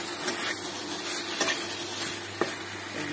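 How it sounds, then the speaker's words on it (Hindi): Potatoes fry and sizzle with masala in a pan for an aloo tamatar kasuri methi sabzi, a steady broadband hiss with occasional soft stirring clicks, no talking. "आलू इसके साथ भून रहा है और इस तरह से आलू भूनता रहेगा।"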